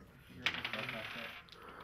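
Dice rolling across a table during a game of Dungeons & Dragons, a quick rattle of bright clicks and clatter lasting about a second, fairly close and alone without talk.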